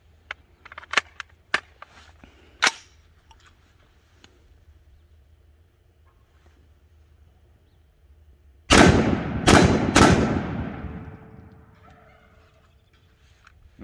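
A Ruger SFAR rifle on gas setting 2 fires a few sharp shots with echoing tails outdoors, then after a quiet pause a close rapid string of loud cracks rings out and decays.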